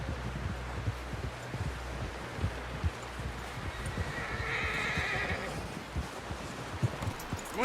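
Horse whinnying and hooves clopping in Red Dead Redemption 2, a neigh rising around the middle over steady rustling ground noise and a continuous low rumble.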